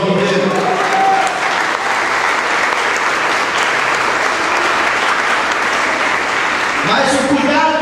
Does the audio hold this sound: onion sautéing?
no